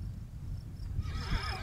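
Wild horses on a mountain pasture neighing, a short whinny rising near the end over steady low rumbling background, moderately close, with no voices.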